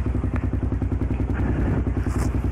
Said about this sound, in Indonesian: Ini adalah knalpot racing buatan asli Indonesia.